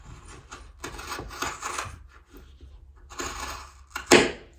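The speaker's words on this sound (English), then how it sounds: "I'm gonna take my fabric scissors and I'm gonna cut a nice neat little line" Rough rasping snips of fabric scissors cutting synthetic fabric, several strokes in a row, close up and moderately loud, ending with a sharper clack.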